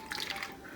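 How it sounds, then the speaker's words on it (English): Chicken marinade poured into a freezer bag with raw chicken, a brief soft liquid splash and trickle, close and faint, with no talking. "we have the marinade made, and now you're just going to put it into the bag with the chicken"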